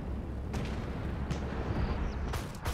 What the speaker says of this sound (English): And I start laying down fire.